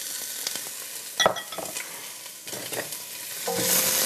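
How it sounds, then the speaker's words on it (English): Onions sizzle in olive oil in a hot pan, a steady close frying hiss with scattered crackles and a few stirring scrapes, growing louder near the end. "Ooh, listen to that sizzle."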